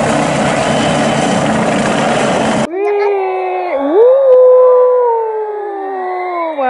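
A toy police helicopter switches on: a burst of noise cuts out, then loud electronic wailing siren tones rise and fall over several seconds.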